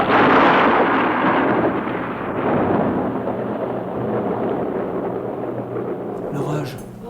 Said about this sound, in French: La foudre a pas dû tomber loin.